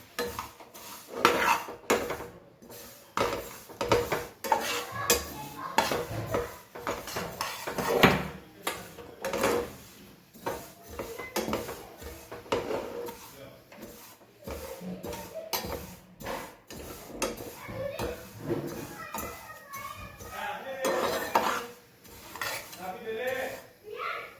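Sesame seeds are stirred and roasted in a pan, with frequent sharp metallic clinks and scrapes from the utensil against the cookware, coming in irregular bursts close by.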